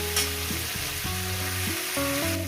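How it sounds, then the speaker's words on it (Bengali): Onion, garlic, ginger and green chilli frying in a pan, a loud continuous sizzle close by with stirring, while background music plays along. "পুরো পেঁয়াজ রসুন আদা কাঁচা লঙ্কা সব কিছু আমি ভেজে নিয়েছি।"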